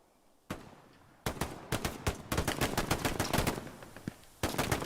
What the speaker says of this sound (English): Shots being fired, they still are not able to notice Elva here